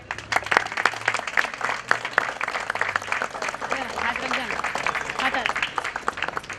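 A crowd claps steadily for several seconds, dense and close, with voices murmuring underneath.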